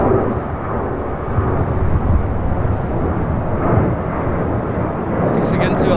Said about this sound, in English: This is Alaska Airlines 1147 taking off to Seattle on a 737-800.